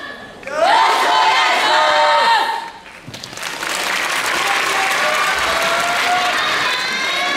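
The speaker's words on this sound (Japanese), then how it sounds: "それではお手拍子お心拍子のほどよろしくお願いします" Audience at a Waseda University yosakoi dance performance in Okuma Auditorium claps and cheers loudly; a burst of crowd noise and shouts is followed by steady, dense applause from a large hall.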